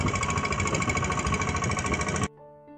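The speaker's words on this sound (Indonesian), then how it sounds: "suara mesin traktornya itu jadi aneh" Slowed-down tractor engine chugs in a dense, rapid pounding rhythm, loud and close, then cuts off abruptly near the end, leaving a faint tonal hum.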